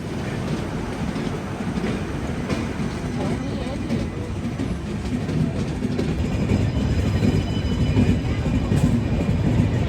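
Onboard rumble of the Jhelum Express as the Jabalpur–Hazrat Nizamuddin train crosses over, with a steady, loud roar of wheels on rails and a continuous clickety-clack, and voices faintly mixed in.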